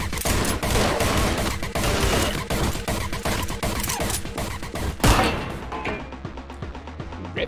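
Rapid Uzi submachine gun bursts from enemies in the video game Anger Foot, loud and continuous volleys of sharp automatic fire that thin out toward the end.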